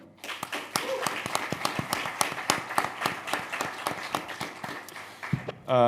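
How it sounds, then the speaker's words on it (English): A modest audience at an automotive esports stage event claps for two guests, with sharp, distinct hand claps in an irregular but steady patter, fairly close, ending abruptly. "give another thunderous applause for my two guests, Eric and Rong"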